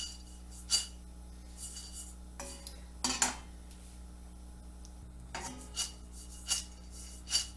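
Biscotti ingredients are stirred and tossed in a pan to toast them, making intermittent metallic scrapes and clinks against a steady low hum, with no one speaking.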